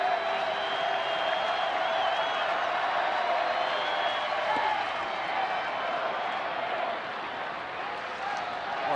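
A crowd of 32,000 on its feet at a Rangers–Angels baseball game, a continuous roar of cheering and applause filling the stadium under a broadcaster's voice.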